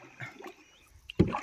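An oar strikes and pulls through lake water from a small rowboat, a soft swish followed by a louder close splash and gurgle near the end, with faint background ambience.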